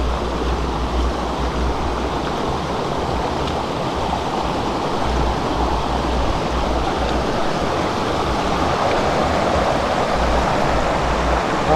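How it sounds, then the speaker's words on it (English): A small waterfall pours off rocks beside a river, a steady, broad rush of falling water heard up close and fairly loud, with a low rumble underneath and no talking. "Lovely little waterfall here coming off the rocks"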